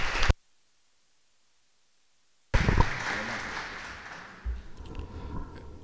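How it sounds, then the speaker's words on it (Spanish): An audience at a history lecture in Mexico applauds to welcome a speaker. After a short silence, a burst of clapping fills the room, then gradually thins and fades. "Recibimos al doctor Flores Cler con un aplauso."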